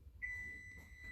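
A kitchen timer going off during cooking, a single thin electronic beep tone that sounds and holds for about a second over quiet room noise.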